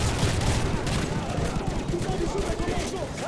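Heavy automatic gunfire from a Modern Warfare 3 mission fills the scene in loud, continuous bursts, with layered shots and explosive thumps mixed with game effects.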